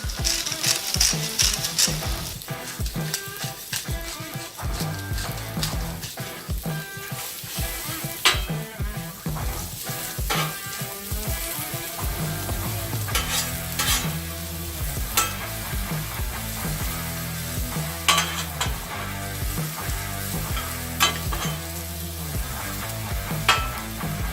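Onions sizzling steadily in olive oil on a 36-inch Blackstone griddle, a dense, continuous crackle with scraping and stirring strokes from a spatula, close and loud, no talking.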